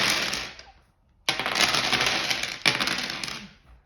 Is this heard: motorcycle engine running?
no